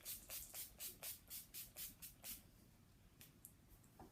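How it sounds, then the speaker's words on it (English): A rapid series of short, hissing spritzes of NYX Matte Setting Spray, about a dozen bursts in quick rhythm, then a pause and a few more scattered sprays, close by. "I'm just going to go in my NYX Matte Setting Spray"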